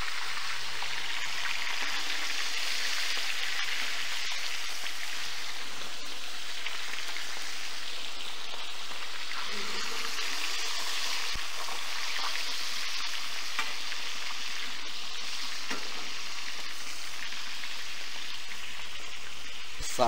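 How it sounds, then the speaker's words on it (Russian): Stuffed carp frying in oil in a pan with garlic and hot pepper, giving a steady, dense sizzle with bright crackling spatters across the whole stretch and occasional louder pops. "Масло брызгает"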